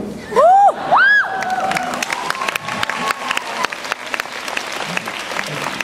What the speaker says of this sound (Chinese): 掌声不用太多